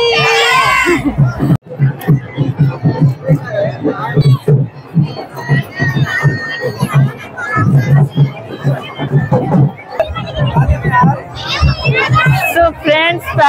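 A crowd with children at a Chhath Puja ghat in Lucknow, a close, busy hubbub of chatter and children's voices, with one voice speaking clearly above the babble.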